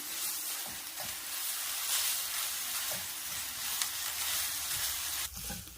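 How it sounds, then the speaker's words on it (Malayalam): Grated coconut mixed with milk powder is stirred in a hot pan, giving a steady close sizzle broken by light scrapes and taps of the spoon. "നന്നായിട്ട് മിക്സ് ചെയ്യാം"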